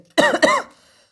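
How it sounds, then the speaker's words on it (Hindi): Two quick, sharp coughs in close succession, near and fairly loud, followed by a short breathy trail. "मुझे थोड़ा खांसी आ गई थी।"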